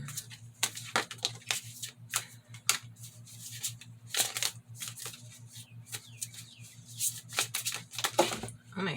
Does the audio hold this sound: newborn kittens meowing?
no